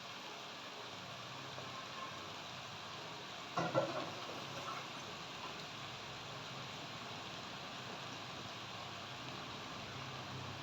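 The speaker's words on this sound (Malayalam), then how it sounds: "ചക്കയും കൂടി ഇട്ട് കൊടുത്ത് ഇട്ട് കൊടുത്ത് നമുക്കിതൊന്ന് വഴറ്റി എടുക്കാം" Squeezed jackfruit pieces sauté in a pan, a faint even hiss of frying that runs throughout, with one brief louder clatter of stirring near the start.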